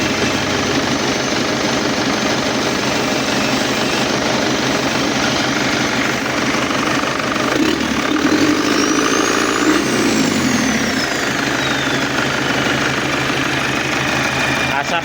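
A steady, rumbling turbo diesel Isuzu Panther engine idles continuously and loudly at close range, with a brief whine sweeping up and down partway through.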